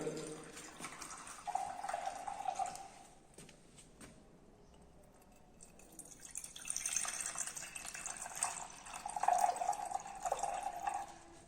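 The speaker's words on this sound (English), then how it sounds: "So as the same amount, I will fill up the beaker." Water is poured to fill a glass beaker during a school lab test of whether liquids mix with water, a faint trickling and splashing that rises and falls over several seconds, heard alone at low level.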